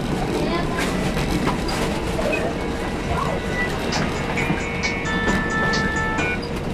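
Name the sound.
Mariazellerbahn narrow-gauge train running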